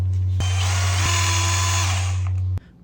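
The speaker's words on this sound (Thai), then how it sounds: "พอเจาะรูเสร็จแล้วก็มาตอกเดือยไม้เข้าไปเลย" A Bosch power drill bores a hole for a wooden dowel, a loud steady motor whine running for about two seconds before cutting off abruptly.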